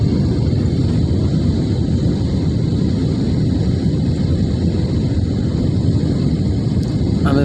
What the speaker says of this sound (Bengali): এখন এয়ারপোর্টের পাশে কাছেই চলে এসেছে, বিমান ল্যান্ড করবে।